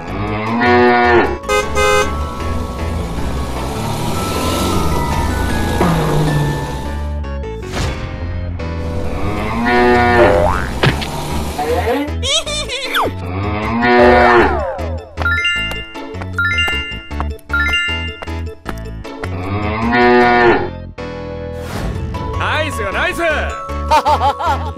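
Cartoonish cow moos repeat several times, loud and drawn out, mixed with jingly chimes and playful sound effects in a children's animal transformation piece.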